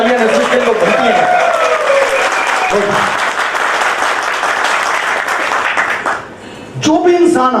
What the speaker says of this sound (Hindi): तो एक बार जोरदार तालियां नेस्विस के लिए बनती हैं